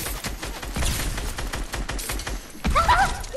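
Gunfire in the Fatal Fields gun game: dense, overlapping shots from several weapons in quick irregular bursts, loud and close, with a heavier blast and some higher-pitched game effects near the end.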